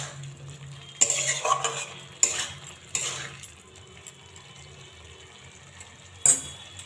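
Poppy seed paste with a little raw mustard oil stirred in a pan for aloo phulkopi posto, with scattered scraping clinks of a spoon against metal and a faint background hum, no talking.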